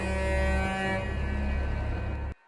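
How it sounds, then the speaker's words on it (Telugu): In a film scene, a bus holds a steady droning tone with a loud horn-like blare that lasts about two seconds and then stops suddenly. "అప్పుడప్పుడే ఆర్గ్యుమెంట్ హీట్ అవుతున్నప్పుడు బ్యాక్‌గ్రౌండ్‌లో బస్ సౌండ్ వినిపిస్తుంది."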